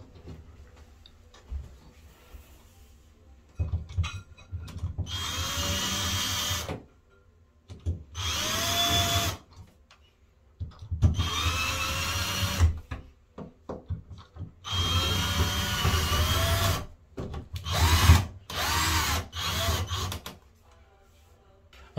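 A power drill drives screws back into a bathtub faucet fitting, making four or five whirring bursts of a few seconds each with quiet gaps and faint handling clicks between them.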